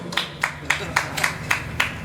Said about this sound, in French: Je vais t'applaudir parce que on est plus que toi.